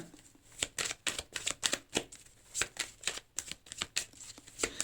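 Tarot cards are shuffled and drawn in quick irregular bursts of crisp riffling and snapping, close and fairly quiet, with no talking.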